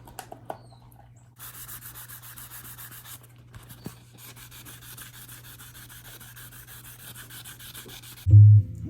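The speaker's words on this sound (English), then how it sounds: "me and Jack are going to work through a few grades of sandpaper blocks. 180 grit" A Gretsch Junior Jet bass neck is sanded by hand with 180-grit sandpaper blocks, giving soft, close rubbing strokes in uneven runs with brief pauses and a dull thump at the end.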